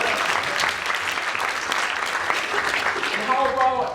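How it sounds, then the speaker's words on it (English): An audience at a keynote speech gives a round of applause, a dense wash of clapping at moderate volume that holds steady for several seconds with a voice heard faintly near the end. "Give them a round of applause too."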